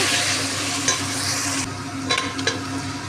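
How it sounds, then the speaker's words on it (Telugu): Potato pieces being stirred into a spiced biryani mixture in a pan, a steady sizzling hiss with a few soft scraping strokes, close and continuous with no voices. "తర్వాత బంగాళదుంప ముక్కలు కూడా వేసేసుకుని మళ్ళీ కలిపేసుకుని"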